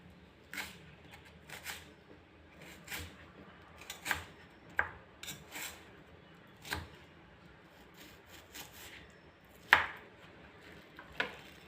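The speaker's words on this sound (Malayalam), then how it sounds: "അപ്പോൾ നമുക്ക് നന്നായി ഉള്ളി അരിഞ്ഞെടുക്കാം." An onion is chopped with a knife, giving a series of sharp, crisp knocks of the blade on the board at an uneven pace against a quiet background.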